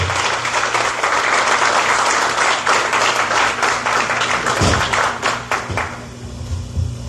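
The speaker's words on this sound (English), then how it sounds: "please give a round of applause for our moderator tonight, Ms. Celia Johnson Blue." Audience at a community labor coalition candidates forum applauds loudly for the incoming moderator, a dense, even burst of clapping sustained for several seconds before easing off toward the end.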